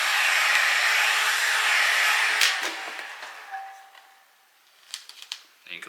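Heat gun blowing hot air onto vinyl wrap on a motorcycle helmet, a steady close airy whoosh that cuts off after a couple of seconds, followed by quiet handling noises.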